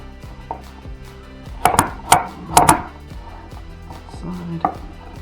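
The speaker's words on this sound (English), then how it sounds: "So cut rough chunks is what I want." Pears being cut into rough chunks on a board, a handful of knife thuds in quick pairs, close and sharp, with quiet gaps between them and no talking.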